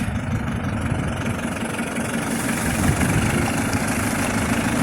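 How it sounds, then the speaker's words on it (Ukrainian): A new YTO NLX 1054 tractor's engine runs steadily with a deep low rumble and mechanical vibration as it pulls away, loud and continuous throughout with no talking. "Отакий тракторець новенький."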